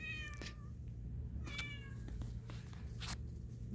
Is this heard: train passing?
no